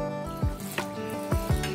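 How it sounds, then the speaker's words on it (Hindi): Water poured into a pan of coconut egg curry, Kerala style, giving a few soft splashing gurgles and drips at close range with no talking. "अब थोड़ा पानी भी डालेंगे इसमें"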